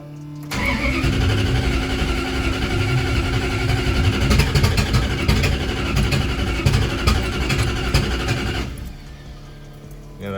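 A 1967 Plymouth Valiant engine fitted with a new ignition coil cranks and fires, then runs at a loud, steady mid-pitched idle for several seconds before cutting off, recorded up close.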